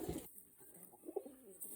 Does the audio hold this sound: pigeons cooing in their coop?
yes